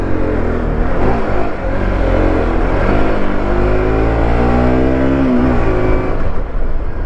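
A Bajaj Pulsar NS motorcycle accelerates hard along a road, its engine note climbing steadily and loud throughout with constant close mechanical roar and no voices.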